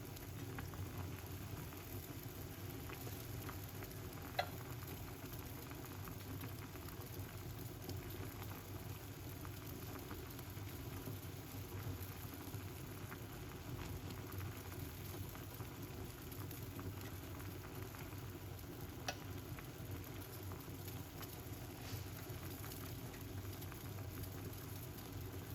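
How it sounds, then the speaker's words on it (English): Pineapple skin tea with cloves and ginger simmers steadily in a pot, a low continuous bubbling rumble with soft irregular pops running unbroken throughout, no voices. "Yeah, it's boiling up."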